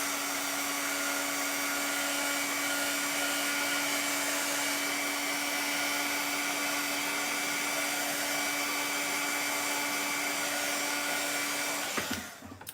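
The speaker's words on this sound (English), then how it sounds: "when I hit it with the dryer, a little tiny piece of paint kind of blew over" A hair dryer blows steadily and loudly at close range, drying paint on a Christmas stencil. Its even whine runs without a break, then cuts off near the end.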